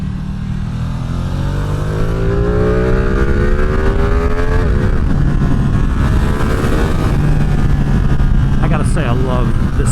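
A 2024 Ducati Streetfighter V2 riding on Route 28, engine note rising and shifting through the gears, loud and close under constant wind rush.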